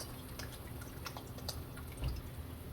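Soy sauce poured into a boiling orange chicken sauce, giving light drips and bubbling over a steady low simmer, faint and close, with no talking.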